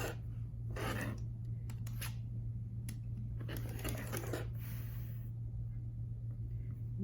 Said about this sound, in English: So I'm going to put this on my fabric and cut this at